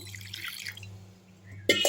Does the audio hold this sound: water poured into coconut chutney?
yes